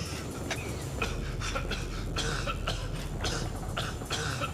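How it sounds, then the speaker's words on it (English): A video game character coughs repeatedly in a fast, rough series over a constant low rumble, each burst short and harsh, with no one speaking. "Stop the coughing, please!"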